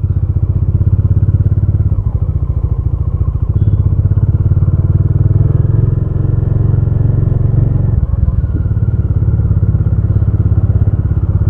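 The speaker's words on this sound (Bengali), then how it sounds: "বাইকটা স্টার্ট দিয়ে এবার রওনা দিচ্ছি" A motorcycle on a bike trip in Arunachal Pradesh runs loud and close, its engine holding a steady, throbbing drone as it rides off, with a few dull clatters and a brief dip near the end.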